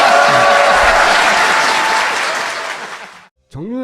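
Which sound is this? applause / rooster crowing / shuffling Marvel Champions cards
applause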